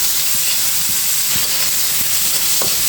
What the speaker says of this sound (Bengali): সুন্দর করে পেঁয়াজের সাথে চিংড়ি মাছটা আমি একটু ভেজে নেব